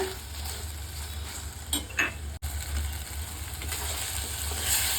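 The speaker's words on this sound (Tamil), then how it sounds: "வெங்காயம் கொஞ்சம் நேரம் வதங்கட்டுங்க" Onions sauté in a pan for wheat sambar, giving a soft continuous sizzle broken by a couple of sharp clinks and scrapes from a stirring spoon around the middle.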